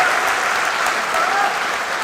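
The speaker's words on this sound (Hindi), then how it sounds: "यदि हिंदुस्तान के लिए जुड़ना चाहते हैं तो एक बार अपनी तालियों से बता दीजिए" Audience applause at a kavi sammelan poetry gathering held at HBTU college, a steady dense wash of clapping throughout, fairly close and loud, with no talk over it.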